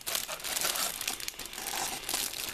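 Plastic bag holding model kit parts for a tank crinkles and rustles continuously at close range, a dense, crackly texture with no talk over it.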